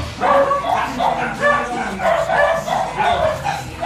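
A dog barks at a home where metal ceiling furring is being installed, with repeated close, loud barks and yips in a steady rhythm.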